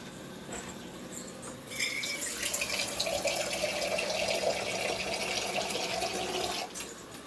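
Water is poured into a pot of drumstick (moringa) leaves for soup: after a quiet start, a steady splashing pour runs for about five seconds, then stops.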